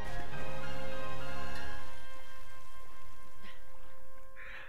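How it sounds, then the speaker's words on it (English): Rain falls after a big water splash in the video game Zelda: Tears of the Kingdom, steady pattering over sustained game tones that gradually fade. "I splashed so hard it rained."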